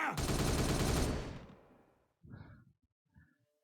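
Space Marines open fire in the video game Warhammer 40K Regicide: a loud, dense burst of gunfire that fades out, then a couple of softer trailing bursts.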